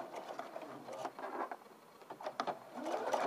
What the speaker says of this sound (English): sew all the way around to where you started